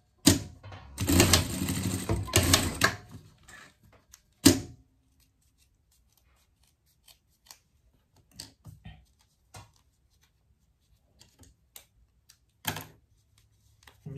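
A sewing machine stitches a seam on a small pet toy in one close, rattling run of about two seconds. A single sharp clack follows, then scattered faint clicks and handling noises.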